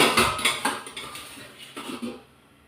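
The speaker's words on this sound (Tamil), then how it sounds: "மூடிட்டு இதை வந்து பெரிய அடுப்பில் மாற்றி விட்ருவோம்" A metal pot lid is set on a cooking pot and the pot is shifted onto a large stove, giving several sharp clanks and scrapes close by, loud and without talk.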